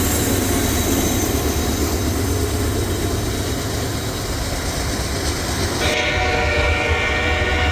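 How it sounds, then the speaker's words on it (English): A CSX mixed freight train heads east on the main line behind two brand-new CM44AH locomotives. It rumbles past loud and close with steady wheel and engine roar, and a horn sounds steadily through the clip before cutting off near the end. "run down the embankment to the railroad to catch the CSX mixed freight on its way east on the main"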